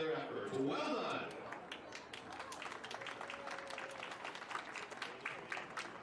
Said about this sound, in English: We'd like to take a moment to applaud all the players and the coaches for their efforts.